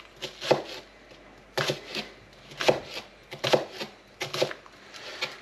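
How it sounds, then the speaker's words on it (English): Knife chopping spring onions finely on a board for a char siu pork burger: sharp, close taps in short bursts of several quick strikes, separated by brief pauses, with no talking. "I'm just going to chop up the spring onions now"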